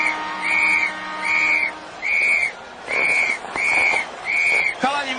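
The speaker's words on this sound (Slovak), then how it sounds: "Chalani, mám novú píšťalku." A new whistle blown in a short Slovak ice-hockey comedy sketch: seven shrill, evenly spaced toots, loud and close, with a faint low hum in the background.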